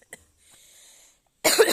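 A single sharp, close cough bursts out near the end, after a faint tap and a soft hiss in otherwise quiet surroundings.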